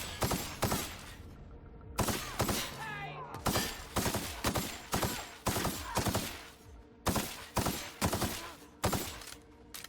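Rapid repeated gunshots from The Outer Worlds video game, loud sharp bursts firing in quick volleys across the whole stretch with brief gaps between groups.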